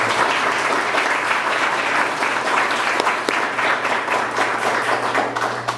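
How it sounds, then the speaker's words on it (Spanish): An indoor gathering at a baptism breaks into sustained, dense applause for the priest, many hands clapping loudly and evenly throughout with a low steady hum beneath. "les pido por favor un aplauso al Padre"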